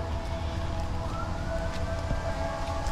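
A wailing siren rises and falls over steady city traffic rumble, moderately distant, with no voices.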